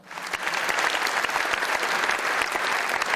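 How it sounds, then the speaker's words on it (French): Audience at a 75th anniversary gala of the FEP Ile-de-France breaks into sustained, dense applause, loud and steady throughout with no voices over it. "de vous lever et d'applaudir toutes ces personnalités"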